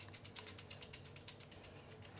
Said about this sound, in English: Now we're gonna start threading in our buffer tube.